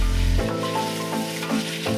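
Pieces of beef tenderloin sizzle steadily in four or five spoonfuls of hot oil in a pot as goulash begins, a continuous frying hiss with a steady tonal hum running underneath.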